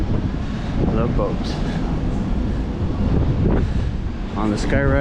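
Wind buffeting the open deck of the cruise ship Carnival Panorama, a loud steady roar of microphone wind noise throughout, with brief faint tonal sounds but no clear speech.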